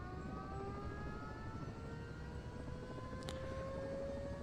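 Bo 105 helicopter second engine startup in the MSFS 2024 flight simulator: a steady turbine whine climbing slowly in pitch over a constant broadband roar, loud and continuous with no talking.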